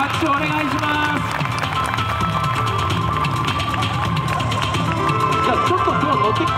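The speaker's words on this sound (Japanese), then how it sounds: "皆さん大きな拍手をお願いします" Crowd applause at a Lunar New Year street entertainment show in Yokohama Chinatown, loud, dense and continuous throughout, with cheering voices and crowd chatter mixed into the steady clapping.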